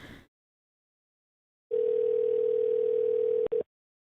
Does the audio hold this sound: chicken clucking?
no